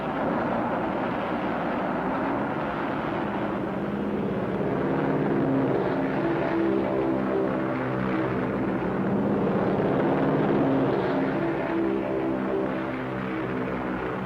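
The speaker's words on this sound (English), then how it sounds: "Navy planes roared from the decks of our carriers, army bombers, marines, thundered destruction over a 300-mile battle area." Wartime aircraft, Navy planes from carriers and Army bombers over a Pacific battle area, roar in a continuous dense engine drone with a steady broadband rumble that swells slightly midway, with no talk over it.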